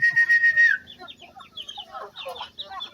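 Chickens and chicks at feeding time: a thin, high chick peep at the start, then a scatter of close clucks and soft chirps in an uneven, busy rhythm.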